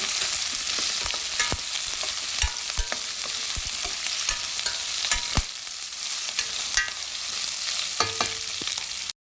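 Onions and capsicum fry in a pan with turmeric, sizzling steadily while a spoon stirs and scrapes, leaving repeated sharp clinks over the constant hiss, close and moderately loud, with no talk.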